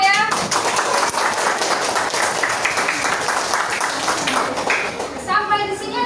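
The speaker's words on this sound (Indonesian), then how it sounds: "Oke, kita kasih tepuk tangan ya." Classroom applause rises as a dense stretch of quick, overlapping hand claps that runs through the whole moment, with children's voices faintly mixed in.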